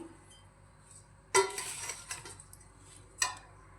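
Large spoon stirring green chili pickle with spices in a pot, giving a clink at about 1.3 seconds, a run of scraping stir noise after it and a second sharp clink near 3.2 seconds, close and moderately loud with no talk.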